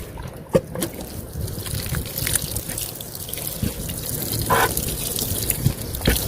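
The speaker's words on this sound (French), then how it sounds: "On va arroser un petit peu." Garden soil is watered while being prepared for planting, a steady soft wash of pouring water with occasional drips and splashes, fairly close, and no talking.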